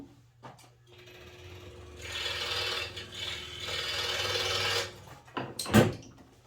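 A wooden dowel being sawn off by hand for a layered Christmas tree project, with steady rasping strokes building over a few seconds, then a few sharp knocks and clatters as the cut finishes, close and moderately loud.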